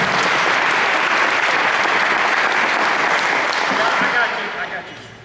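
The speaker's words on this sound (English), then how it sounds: "Let's give them a round of applause for a great presentation." Loud, dense applause from a banquet audience at a county touchdown club awards night, sustained evenly for several seconds before tapering off near the end.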